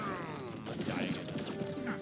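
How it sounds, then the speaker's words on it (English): A player character dies in the NES game Contra: a crunchy, descending electronic death tune with clattering noise bursts, loud and continuous for about two seconds. "Love that sound of dying in Contra"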